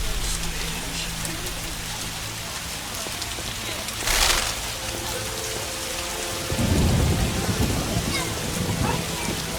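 Heavy rain and thunder in the fantasy role-playing game The Witcher, steady downpour hiss with a sharp crack partway through and a deep rolling rumble near the end.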